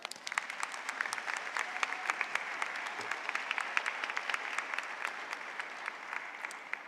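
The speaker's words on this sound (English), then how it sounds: "that deserves a big round of applause" A crowd claps at a high school commencement ceremony, a steady patter of many hands with sharper individual claps standing out, moderately distant and even in level, with no speech.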